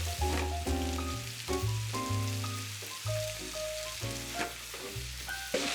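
Chicken frying skin side down with onions in a pan, a constant crackling sizzle with brief louder pops, while steady tonal background music plays over it and no one speaks.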